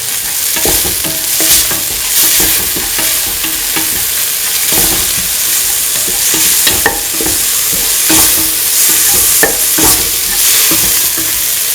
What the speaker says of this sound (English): Salt to taste and mix.